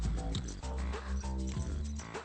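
A dog in a Telugu comedy film scene gives a run of high, whining whimpers and short yelping barks, close and loud, with no voices over it.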